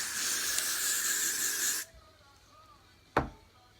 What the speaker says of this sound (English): So basically you're spraying yourself in the face with hairspray.